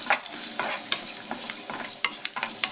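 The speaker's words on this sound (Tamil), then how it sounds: "இப்போ அதுலேயே வந்து தேவையான அளவுக்கு பெருங்காயத்தூள் சேர்த்து இதை வதக்கிக்கலாம்" Garlic with asafoetida frying in a pan for a Pollachi-style coconut milk rasam: a constant close sizzle broken by quick, irregular scraping strokes of a spatula.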